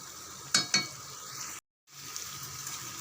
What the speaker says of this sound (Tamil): வடையெல்லாம் நல்லா வெந்துடுது.